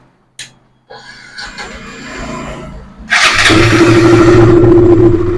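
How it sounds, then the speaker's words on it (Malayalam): A KTM motorcycle fitted with a Dominar ignition coil, after a starting problem, fires up from near-silence, preceded by a click and whirring, then settles into a loud, steady idle close by. "ഇനി നമ്മൾ വേണ്ടി ഒന്ന് സ്റ്റാർട്ട് ചെയ്ത് നോക്കാം"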